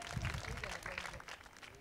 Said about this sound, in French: Sous vos ovations, s'il vous plaît.